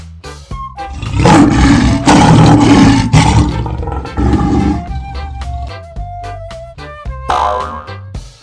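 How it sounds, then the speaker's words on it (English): A lion lets out loud, deep, rasping roars in a couple of long bursts, each fading into low grunts. Short bright toy-like sounds and a springy boing follow at the end. "Lion."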